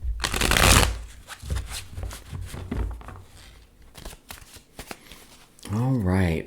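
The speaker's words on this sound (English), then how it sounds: "we're going to get a few more shuffles in" Tarot cards being shuffled in quick riffling bursts, close up, with crisp papery flicks and a short riffle near the end; a voice murmurs faintly in between.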